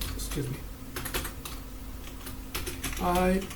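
Typing on a computer keyboard while entering a ChatGPT prompt: several separate bursts of quick key clicks, fairly close and moderately loud, with a person speaking in between the keystrokes.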